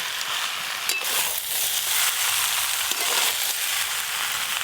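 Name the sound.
stir-frying potatoes, jackfruit and prawns together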